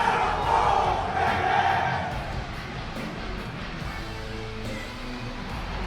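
A large arena crowd in a WWE 2K25 wrestling game roars and chants in St. Louis, a dense, loud wash of cheering that stays steady throughout, with commentary voices underneath.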